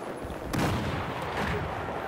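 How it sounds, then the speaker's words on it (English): A grenade explosion in Battlefield 4 gameplay goes off as a sudden loud broadband blast, then a rumbling tail and scattered distant gunfire, while voices mutter faintly underneath. "Oh, they're throwing grenades, right?"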